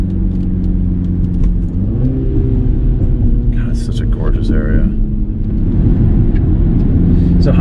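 A 2020 MINI JCW Clubman drives along a mountain road, its engine a steady low rumble with a brief rise in revs, while people talk inside the cabin over it.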